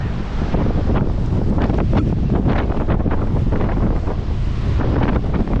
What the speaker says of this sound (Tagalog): Lakas na lang hangin.